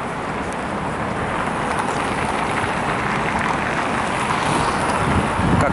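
Steady, loud wind buffeting the microphone outdoors in Saint Petersburg in April, a continuous roaring rush with no voices.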